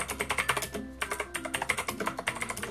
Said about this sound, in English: the E-Element RGB keyboard is amazing, and a lot of people are just going to worry about the sound